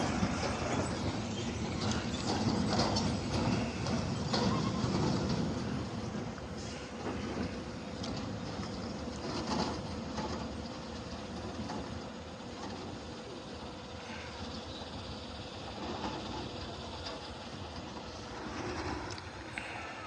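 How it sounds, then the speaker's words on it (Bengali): An Indian train heading toward Agartala rolls slowly past, a steady broadband rumble and clatter that holds at an even, fairly close level for the whole stretch, with no voices. "ইন্ডিয়ান ট্রেনটি যাচ্ছে, ধীরে ধীরে যাচ্ছে।"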